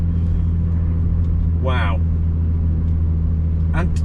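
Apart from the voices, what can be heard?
BMW Z4 driven hard on a Nürburgring Nordschleife lap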